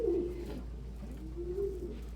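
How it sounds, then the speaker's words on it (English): Pigeons coo softly while feeding at breakfast with a person sitting among them, low rolling calls repeating close by over a steady low hum. "Pigeons are social birds."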